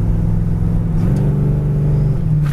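A 1964 Chevy Chevelle with a three-speed Turbo 350 automatic pulls steadily in second gear, its engine a loud, constant low drone with gently rising harmonics and no voices.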